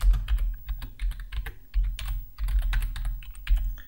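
Computer keyboard typing while entering an SQL query, with quick irregular bursts of key clicks and short pauses, close and clear with no talking.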